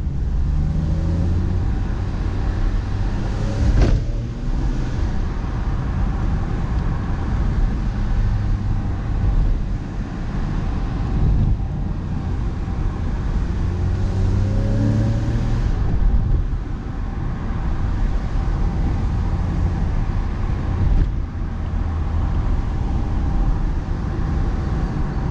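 Porsche 997.2 Carrera S Cabriolet with PDK gearbox drives along, its engine a steady deep drone with rising revs and shifts, mixed with road and wind rush, no talk.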